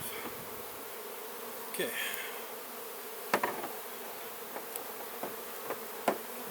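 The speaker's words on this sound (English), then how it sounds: "So the wasp is over here" A wasp buzzing near an opened beehive where frames are being worked, a faint insect drone under scattered clicks and handling knocks, with a brief spoken word.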